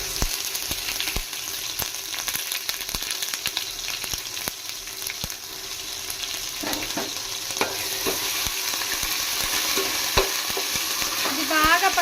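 Ginger garlic paste fries in hot oil for chicken biryani as a spoon stirs it, making a steady sizzle broken by sharp scraping clicks against the pan, close and loud with no talking.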